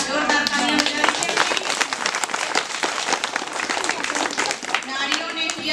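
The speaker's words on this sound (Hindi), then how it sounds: "तो एक बार जोरदार तालियां बजाइए।" Loud, dense applause from an audience at a rural village awareness gathering on natural resources and livelihoods, steady clapping throughout with a voice speaking over it at moments.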